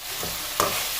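Chicken with babycorn cooking in a pan, giving a steady soft frying sizzle with a brief stir or scrape partway through, close and alone.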